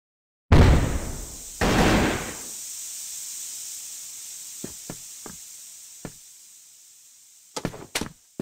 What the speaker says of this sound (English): Smoking grenade!